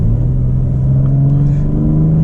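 BMW M4 Convertible with a 500-plus horsepower engine and all-wheel drive accelerating, a loud steady engine drone rising gradually in pitch over a deep rumble, heard from inside the car with no talk.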